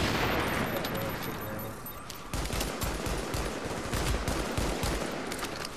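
Rapid gunfire in the online shooter The Division, a dense close volley of repeated shots that intensifies after a brief lull, loud and continuous throughout.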